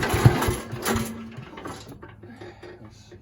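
Little Wonder 13HP high output blower engine cranking and sputtering nearby, a loud burst at the start that fades to a low uneven idle.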